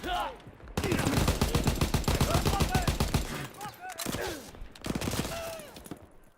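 Rapid bursts of automatic gunfire in a prison-break style multiplayer shooter game, loud and close, stopping and restarting several times with a voice and short game sounds between volleys.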